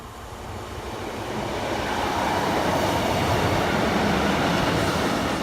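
A train to Doncaster via Gainsborough Lea Road passes Saxilby level crossing, a broad rushing rumble that swells over the first two seconds and then holds steady and loud.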